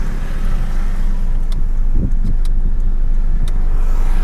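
A 2011 Toyota Vigo four-door pickup with a 2.5 diesel engine pulls away in second gear on a busy road, giving a steady, loud engine drone with road and traffic noise and no voices.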